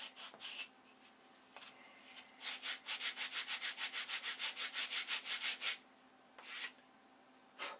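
A stack of wooden model wings is sanded by hand in quick, rhythmic back-and-forth strokes, a run of about fifteen even rasps between a few scattered scrapes, close and clear.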